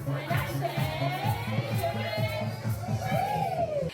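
A packed house of young children at a library firefighter story time, part of a Touch-a-Truck event, cheering and chattering continuously in a loud indoor crowd with overlapping small voices and shouts.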